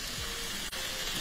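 Egg going into a pan with onion and garlic for feijão tropeiro, giving a steady, close sizzle and crackle of frying throughout, with a brief dip midway.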